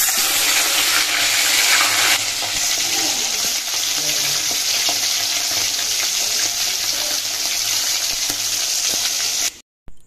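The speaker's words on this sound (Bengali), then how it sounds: "ওদিকে তো মাছ ভাজা হচ্ছে" Fish fries in hot oil in a home kitchen, a loud, dense, continuous sizzle with faint scraping and stirring underneath, cutting off abruptly at the end.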